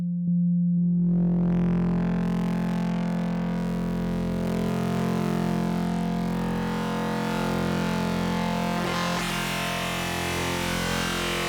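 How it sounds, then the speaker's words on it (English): A pure synthesizer sine tone holds steady and loud throughout, with faint harmonic and effects coloring building toward the end. "With sine waves, you can get the most complex results"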